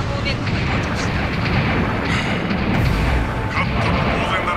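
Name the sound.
explosion at a base in the Gundam video game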